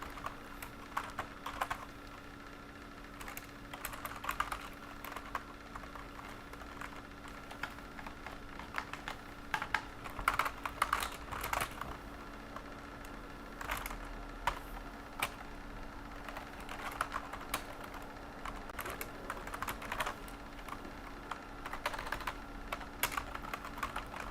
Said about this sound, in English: I don't see what I typed there